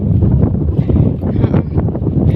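Heavy wind buffets the microphone with a loud, continuous low roar that rumbles and gusts throughout.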